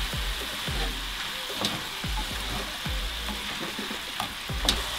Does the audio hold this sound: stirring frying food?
yes